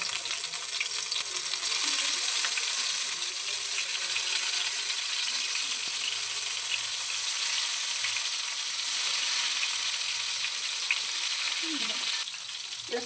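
Eggplant slices fry in hot mustard oil, giving off a steady, bright sizzle that stays even and close throughout, with a faint shift near the end.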